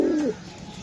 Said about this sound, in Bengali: এটি ডিমের কবুতর তো